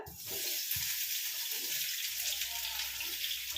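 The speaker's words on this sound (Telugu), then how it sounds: "ఆనియన్స్ కొంచెం ఇలా పెద్ద కట్ చేసుకొని ఒక్క కొంచెం గోల్డెన్ కలర్ వచ్చే వరకు వేయించుకొని" Large-cut onions frying in oil until golden, a soft continuous sizzle with a few stirring clunks near the start, heard close up.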